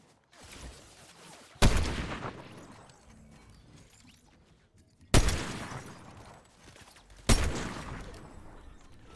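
Fortnite video game gunfire, with three sharp loud bursts of shots that each ring out and fade, separated by quieter rattling between them.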